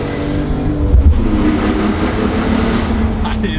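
Loud engine of a BMW E46 M3 CSL with a manual gearbox pulling hard from inside the cabin, a steady dense roar with a low thump near the start, with a voice partly audible over it.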